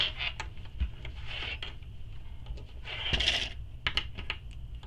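Plastic sewing clips snap one after another onto bag fabric along its edges, a scattered series of small, sharp clicks and taps close by, quiet, with no talk.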